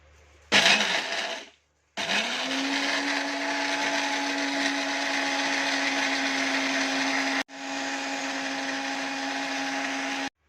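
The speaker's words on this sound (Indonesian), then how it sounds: "lalu kita blender" A blender starts after a short clatter, running on chilies with water, with a steady loud whir, cuts out briefly, then whirs on again before stopping.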